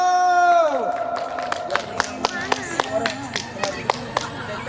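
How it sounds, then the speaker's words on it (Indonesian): A school audience claps for a student poetry performer, with a fading electronic tone first, then a sparse run of a dozen or so sharp, separate handclaps from a small group. "Tepuk tangan dulu yo."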